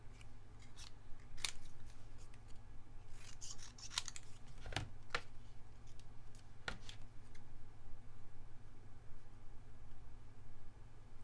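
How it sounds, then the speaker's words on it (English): Scissors snip steadily through a strip of scrapbook paper, a run of crisp, close cuts over a low background hum, with a few sharper snips standing out. "I'm just going to cut myself"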